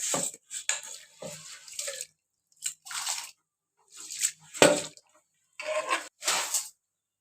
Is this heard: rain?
no